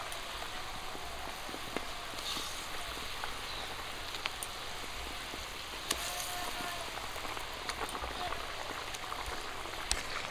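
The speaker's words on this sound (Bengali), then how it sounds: "ঝোলটা ফুটে গেছে" Pabda fish curry gravy bubbles at a steady boil in a pan, a continuous soft simmering hiss dotted with small pops and clicks, close and fairly quiet.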